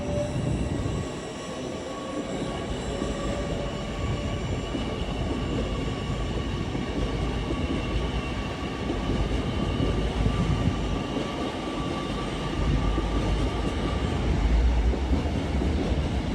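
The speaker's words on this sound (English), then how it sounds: "1531 LNER Azuma service from Edinburgh Waverley to London King's Cross, formed of 801 229" LNER Azuma Class 801 passenger train running through York station on the East Coast Main Line, a steady loud rumble of wheels and traction hum throughout, no talk.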